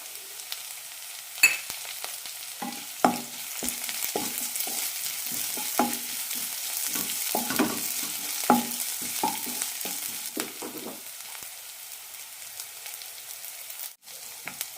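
Sliced onion, ginger and garlic sauté quietly in a pan, a soft steady sizzle with frequent light spatula taps and scrapes through the middle that thin out toward the end.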